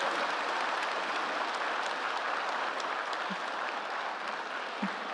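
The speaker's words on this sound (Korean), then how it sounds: "세 분 배우자님께 큰 박수 한번 부탁드리겠습니다" An indoor audience at an education awards ceremony applauds the spouses of honorees, a dense steady clapping that holds evenly throughout, with no voices over it.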